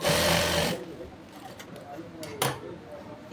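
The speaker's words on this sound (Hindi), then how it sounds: "ऐसे सिलाई करके लेंगे।" A sewing machine stitches a folded half-inch hem on gents' Bermuda shorts in a short, fast, buzzing burst at the start, then stops while fabric is handled with faint rustles and clicks.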